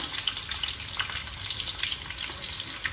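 Onion pieces frying in hot oil for a Sunday chicken fry, a steady dense sizzle and crackle with no pauses, close and fairly loud, no voices.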